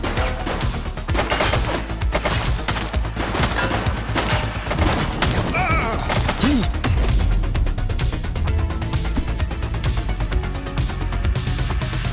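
Gunfire in the police game The Precinct, with dense, rapid bursts of shots and crashes filling the whole span, loud and continuous.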